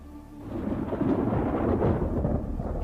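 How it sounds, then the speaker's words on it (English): Low, rolling thunder of an approaching storm, a radio drama sound effect, swelling in a deep continuous rumble that grows louder after the first half-second and holds steady with no voices. "There's a storm coming."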